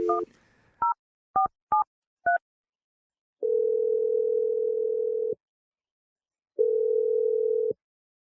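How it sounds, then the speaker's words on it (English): A phone number is dialed: a short burst of dial tone, then five quick keypad tones in an uneven rhythm, followed by two long, steady ringback tones separated by a gap, all clear and close with no talking. "we're going to dial Evan's phone number"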